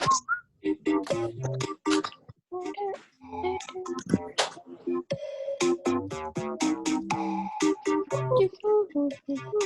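Someone whistles a tune over a Zoom class call, a string of clear pitched notes in a lively, uneven melody with short pauses between phrases, close and fairly loud.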